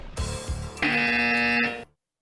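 Two quick clicks, then a loud, sustained electronic quiz buzzer at a corporate quiz final, with a steady harmonic tone that holds for about a second before cutting off.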